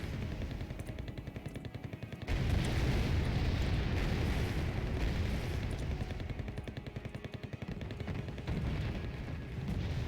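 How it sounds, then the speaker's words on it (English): Missile fire in the real-time strategy game Wargame Red Dragon, heard as a dense, continuous roar of launches and rumbling blasts that grows louder partway through, with no voices. "My missiles are already firing."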